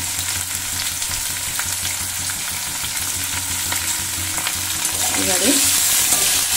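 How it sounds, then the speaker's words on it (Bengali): Potatoes frying with turmeric and salt for a cabbage dish, a loud continuous sizzle in the pan with close scraping stirs throughout and a brief word spoken near the end. "ভালো করে এটাকে আমি একটু নেড়ে নেব, মানে হলুদ আর লবণটা একটু মিশিয়ে নেব।"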